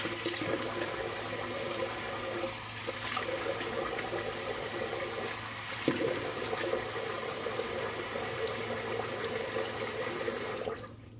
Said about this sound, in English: So I'm going to cold water rinse.